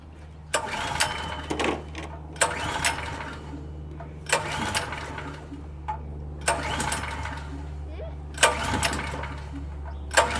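A PowerSmart PS44 3000W generator engine, with a troublesome choke, gets repeated start attempts: about five loud, close bursts of engine noise roughly two seconds apart, each dying back to a low steady hum.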